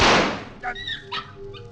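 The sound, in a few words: dog sound in a radio drama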